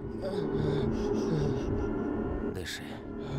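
Someone pants and gasps for breath in a horror film scene, with heavy, ragged breathing throughout and a sharp gasp near the end, mixed with low background sound.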